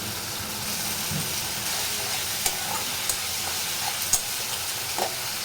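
Spice paste with green chilli fries in a pan, a constant dense sizzle and hiss with occasional light clicks of stirring.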